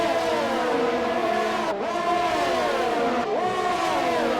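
Race cars in a racing video game at the Baku street circuit, a loud continuous engine whine with two sharp gear-change dips as the pitch climbs again, no voices.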